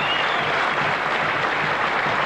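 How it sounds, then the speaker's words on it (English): Room full of people applauding at a rugby league club gathering, a thick continuous wash of clapping that stays loud and even throughout. "put your hands together, give a great round of applause"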